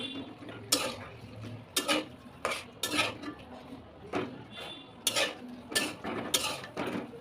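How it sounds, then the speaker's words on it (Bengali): A spoon scrapes and clatters against a metal cooking pot while spices are stirred and fried for a chicken curry, in a series of sharp clanks about once a second, fairly close, with no talk. "মশলাগুলো কিছুক্ষণ কষিয়ে নেব"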